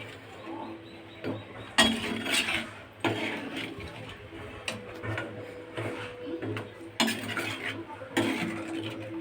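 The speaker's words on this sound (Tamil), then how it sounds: "இப்போ நம்ம முருங்கைக்காய் போட்டுடலாம். நல்லா கொட்டி இப்படி கிளறிக்கலாம்." Drumstick (moringa) pieces stirred in a pan for a Tamil drumstick thokku, with repeated scraping and clinking of a spoon against the cookware over a steady low hum, loudest in several sharp bursts.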